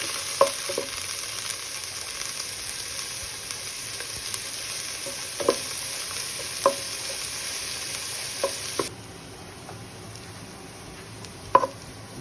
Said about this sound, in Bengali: পেঁয়াজটাকে ভাজি।